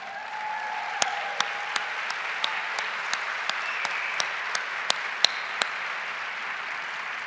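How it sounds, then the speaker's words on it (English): A small audience at a gathering claps for two teachers, heard as sparse, evenly spaced individual claps, about a dozen crisp slaps over a quiet room hiss. "give them a huge round of applause"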